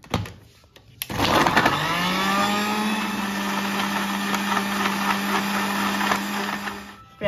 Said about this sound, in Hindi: मिक्सी ग्राइंड करेंगे।